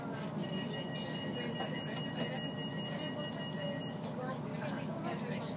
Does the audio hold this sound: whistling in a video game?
no